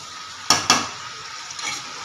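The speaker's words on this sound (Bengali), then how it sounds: "এ দেখো সবজিটাকে কষাচ্ছি।" Vegetables stir-fried in a pan for a Bengali vegetarian curry, two sharp spatula scrapes over a soft background sizzle, then a fainter stir, close by with no talk.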